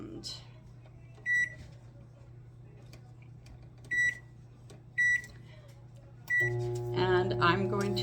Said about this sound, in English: as you can hear, the microwave just beeped.